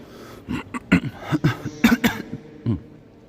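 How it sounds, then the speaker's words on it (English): A run of repeated coughs, close and fairly loud, in several uneven bursts with short pauses between, ending in one final cough, during a mass in a church. "My bad, I'm coughing."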